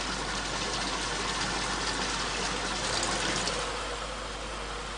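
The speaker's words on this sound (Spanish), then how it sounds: "El arroz pasa por una zona de duchas donde se le retira la fina capa de harina" Water sprays wash rice in a rice mill, making a dense, continuous rushing gush that stays steady and loud throughout.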